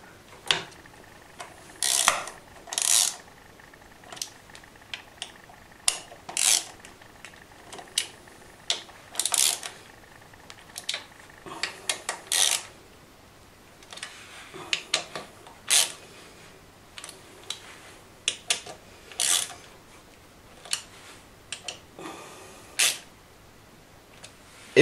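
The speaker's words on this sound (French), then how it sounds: "Maintenant, nous avons donc resserré toutes les vis qui font le tour de notre carter de transmission." Small screws are driven into the transmission housing of an RC car, producing scattered bursts of quiet ratcheting clicks and short mechanical whirs with irregular pauses, close up and without speech.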